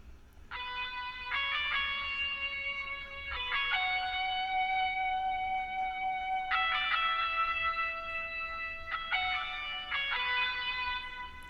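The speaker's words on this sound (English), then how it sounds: "And so the guitar on this part sounds like this." Guitar pattern in a hip-hop beat programmed with Maschine and FL Studio, bright effected notes in repeating sustained phrases with a clear echo, heard alone and moderately loud.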